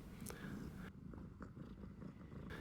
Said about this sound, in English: it seems one of the house cats has entered the frame